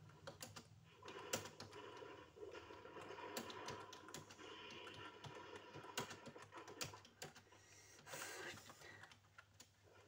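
Rapid, uneven clacking of a computer keyboard while playing a Roblox battlegrounds game, with quick bursts of keystrokes and short pauses over a steady low hum, close and fairly quiet.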